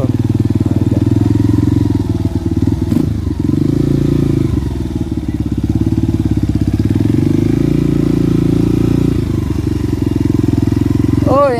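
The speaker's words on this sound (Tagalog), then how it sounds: "So dito makakadaan yung motor." A motorcycle engine drones loud and close, its note shifting as the bike rolls along and passes, with some clatter in the background.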